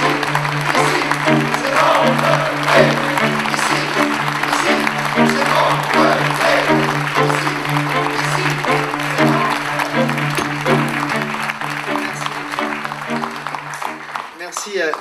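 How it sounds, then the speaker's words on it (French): Crowd applause at a political rally in a concert venue, continuous dense clapping over a steady background music drone, lasting the whole stretch before cutting off. "Applaudissements"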